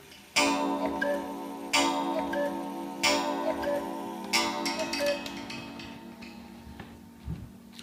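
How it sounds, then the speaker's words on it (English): An antique carved Black Forest shelf cuckoo clock from about 1880 gives several loud, evenly spaced metallic strikes that ring on, followed by quieter ticking and small knocks, all close by. "this is just a magnificent shelf cuckoo clock made in the Black Forest"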